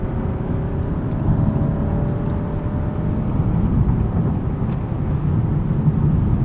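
A 2023 Honda Accord Hybrid Touring cruising at night, heard from inside as a steady, smooth low road and tire rumble with a faint motor whir, continuous and even throughout with no talking.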